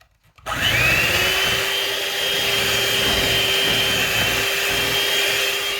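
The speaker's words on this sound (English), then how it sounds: "And I'm going to mix this for 3 minutes." Electric mixer kneading bread dough with a yeast mixture, starting up abruptly and then running as a steady, loud, high whirring motor hum that continues alone without any talking.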